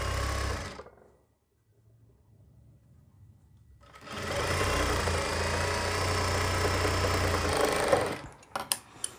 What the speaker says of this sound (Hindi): इसमें भी हम दोस्तों बिल्कुल सेम सिलाई लगाएंगे पक्का करके इसको बिल्कुल ऊपर तक दोस्तों सिलाई लगा लेंगे